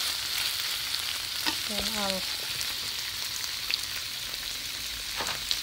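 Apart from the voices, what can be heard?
chicken liver frying in a pan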